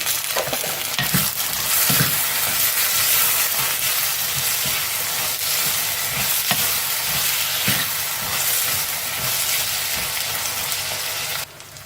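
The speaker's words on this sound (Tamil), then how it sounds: "இப்போ வந்து இந்த கொட்டையை வெங்காயத்துக்கூடையே போட்டுக்கிறேன்" Jackfruit seeds fry with onion and split green chilies in a pan, a loud continuous sizzle near at hand with occasional soft spoon knocks and scrapes throughout, no voices.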